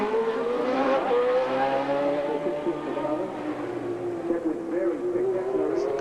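Formula 1 car from the 1990 Australian Grand Prix qualifying session at Adelaide, a loud, steady engine note with rising and falling pitch as it brakes and accelerates. Commentary voices run underneath.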